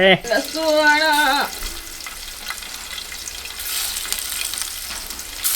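Onion frying until red for a prawn dish cooked on a wood-fired stove: a voice speaks briefly at the start, then a steady close sizzle continues with light stirring, growing hissier toward the end.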